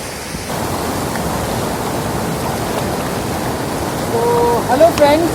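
Steady rushing water from a mountain waterfall and stream in monsoon season, a continuous broadband roar filling the scene at close range, with a few faint higher tones near the end.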